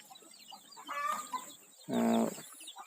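Chickens in a small backyard coop next to a house cluck and squawk up close, with a louder harmonic call near the end, while someone talks briefly.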